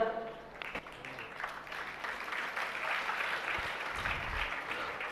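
An audience claps at a spiritual discourse, a faint, moderate patter of hands that builds into a steady stretch after a quieter start, with some low background noise and a voice briefly underneath.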